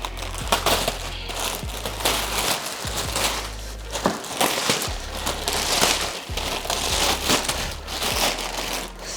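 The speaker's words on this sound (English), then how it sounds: "Let's cut up the plastic." A knife slices through the plastic wrap on a boxed Apollo Go e-scooter, making loud, close crinkling and crunching with irregular tearing bursts throughout, and no talk.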